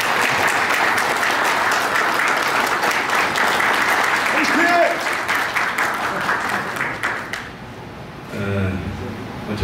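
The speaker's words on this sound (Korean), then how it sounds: "박수 한번 쳐주십시오." Sustained applause from a large audience at a lecture event fills most of the clip, then fades into a speaking voice.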